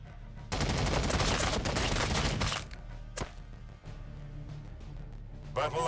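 Sustained machine gun fire in Warhammer 40k Battlesector, a dense, loud roaring burst lasting about two seconds, followed by a lone thump and quieter battle ambience with brief voice audible.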